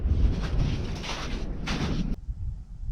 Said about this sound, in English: The wind is still blowing from the east.